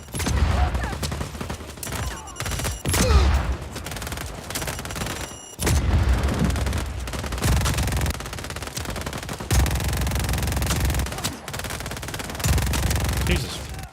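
Sustained gunfire in Just Cause 4, long bursts of rapid machine-gun fire and shots in repeated waves with brief gaps, loud and close.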